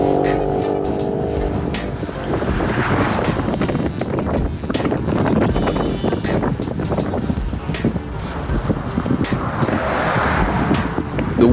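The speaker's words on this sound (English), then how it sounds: "The wind is buffeting us more." Steady, loud wind buffets a cyclist riding on an exposed stretch, roaring as rough microphone rumble with gusting swells throughout.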